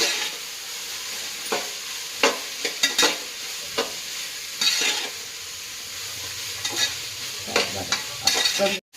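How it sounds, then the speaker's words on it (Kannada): Vegetables sizzle steadily in hot oil for a vegetable pulao, with a constant frying hiss broken by repeated scraping stirs and light clinks of a spoon against the pan, close and without voices. "ತರಕಾರಿ ಒಂದು 2 ನಿಮಿಷ ಎಣ್ಣೆಗೆ ಫ್ರೈ ಮಾಡ್ಕೋಬೇಕು."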